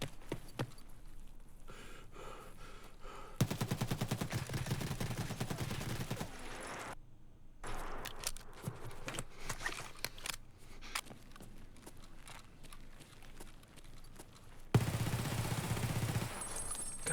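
Automatic gunfire in Escape from Tarkov, long rapid bursts of fast, rattling shots at fairly close range, broken by brief pauses, with other game noise mixed in.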